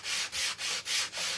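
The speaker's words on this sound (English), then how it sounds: "I am just sanding it." A wooden board for a cookbook stand is sanded by hand, producing loud, close, steady rasping strokes in an even back-and-forth rhythm, four or five passes with short gaps.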